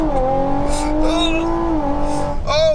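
Stage 3 Audi RS5 making a launch start, the engine roaring loud and close as revs climb steadily, then a brief shift and a fresh rise in pitch near the end.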